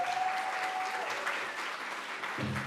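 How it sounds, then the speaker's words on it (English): An audience at the 2024 Grand Rapids Neighborhood Summit applauds in a steady, fairly quiet wash of clapping heard from a distance. "Y'all clap it up for the pink shirts in the room."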